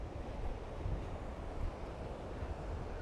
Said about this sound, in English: I'm back at the ocean